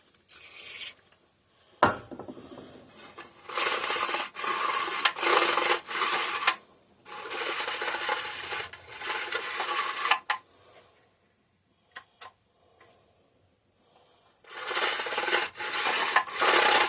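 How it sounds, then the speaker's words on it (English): The recoil starter on a 3.5 hp Briggs and Stratton engine is pulled repeatedly, giving rough raspy scraping and ratcheting bursts separated by pauses, close and moderately loud, suggesting a worn, unhealthy mechanism. "Doesn't sound like the healthiest recoil ever. It's making a weird noise."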